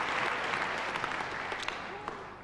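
Audience applause rings out after a snooker trick shot at a 1992 trick shot championship, sustained clapping from a crowd, fairly faint and fading slowly toward the end.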